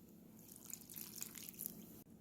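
Water poured from a measuring cup into a bowl of pie dough ingredients (flour, sugar and cubed unsalted butter) for pecan pie, a soft steady trickle and splash lasting about two seconds before stopping.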